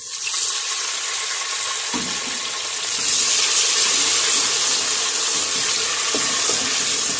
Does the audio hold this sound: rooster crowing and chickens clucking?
no